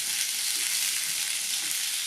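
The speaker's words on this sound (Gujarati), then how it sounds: "પછી જે ટામેટા મરચાંની આપણે પેસ્ટ બનાવી છે એ પેસ્ટ આમાં નાખવાની" Tomato and green chili paste sizzles in hot oil tempering for a Gujarati vegetable curry, a steady loud dense hiss filling the short stretch with faint stirring underneath and no talk.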